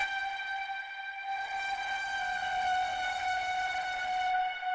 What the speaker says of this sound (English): I'm going to quickly play you the pad both with and without the overdrive